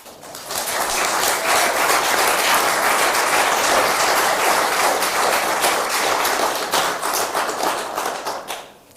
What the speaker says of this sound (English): So, clap for our...